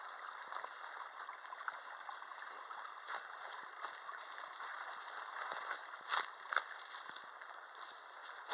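Flowing creek in Newfoundland wilderness, a steady low rush and trickle of water with faint gurgles, moderately distant and quiet, no voices.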